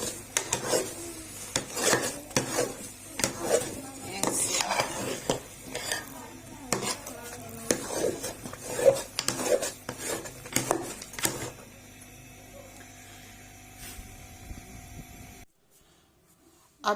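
Carrot halwa roasting in a pan over a raised flame, a spoon scraping and rubbing steadily through the thick mixture in repeated strokes, close and clear, before the stirring stops and the sound fades to near silence.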